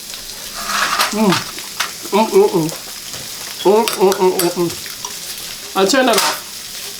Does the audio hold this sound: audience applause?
no